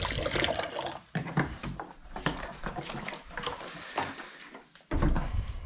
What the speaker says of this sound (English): We're actually gonna fill that water up because I don't think I have enough.